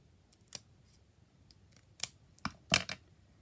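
Scissors snipping through a piece of sparkly paper, a short run of close crisp cuts getting louder toward the end, in a quiet room.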